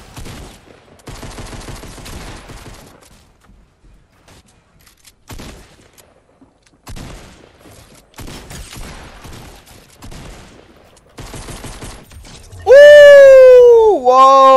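Rapid bursts of gunfire in Fortnite, loud and clustered in quick volleys, alternating with stretches of a player talking. A high, wavering cry closes the sequence.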